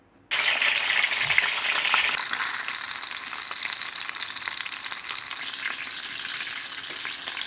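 Sea bream frying in hot oil in a pan gives a loud, steady sizzle that jumps in intensity as the fish goes in and keeps crackling evenly, easing slightly near the end, with no voices.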